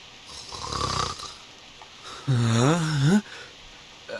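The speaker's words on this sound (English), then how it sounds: "What we want to know is how an apple can snore." Snoring from a sleeping character in the video game Reverse 1999, a breathy intake followed by a louder rumbling, wavering snore, heard alone and fairly close.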